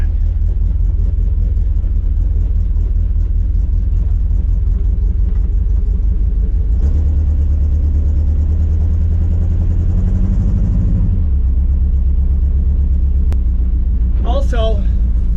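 A lowrider car with a newly fitted rear end and lower gears rumbles along on a short pass, its engine giving a deep, steady low drone that swells midway, while someone talks over it throughout.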